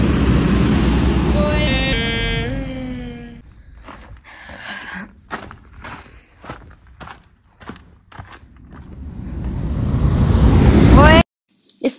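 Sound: wind and sea waves at the coast

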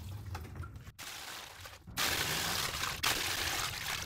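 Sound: filling reservoir with water from the sink

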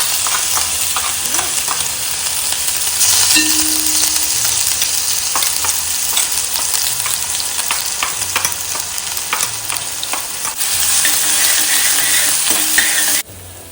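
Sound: spice paste frying after cumin tempering crackles

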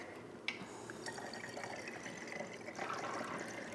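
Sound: pouring water with lemon oil into a container

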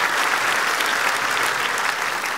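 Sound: audience applauding loudly

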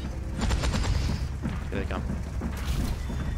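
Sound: Widowmaker sniper rifle shots in the video game Overwatch 2

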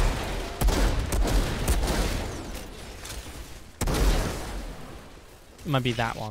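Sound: player's gun firing in video game Outriders

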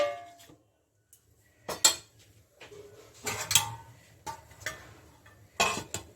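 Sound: covering the cooking pot with a lid

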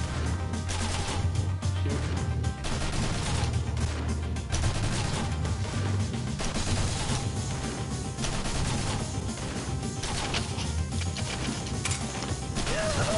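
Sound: gunfire in the video game Mercenary Kings

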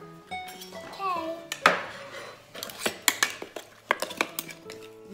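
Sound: mixing pancake batter in a bowl

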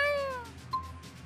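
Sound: cat meowing

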